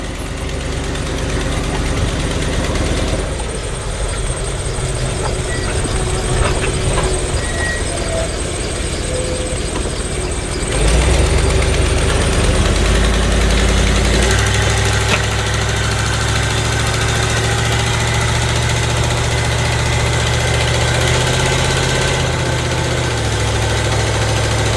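Ford Econoline Club Wagon van with a new transmission on a test drive; a steady engine drone heard from inside the cabin that rises and shifts between first and second gear, loud and continuous with no talk.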